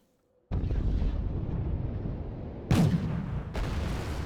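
Artillery fire in the real-time strategy game Wargame Red Dragon, with a sustained rumbling barrage and two sharper, louder blasts later on, with no talk over it.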